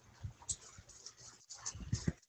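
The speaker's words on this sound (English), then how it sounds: "Oh, here's a dog in the water." A dog in a pool whimpers and pants in short, soft bursts with faint splashes, close and quiet.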